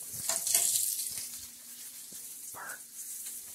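Bacon frying in a pan at breakfast, a soft, steady sizzle with faint crackles and a few clinks, heard fairly close but quiet.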